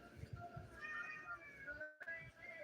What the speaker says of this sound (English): The Siamese, it sounds like, well, that's a Siamese meow for you.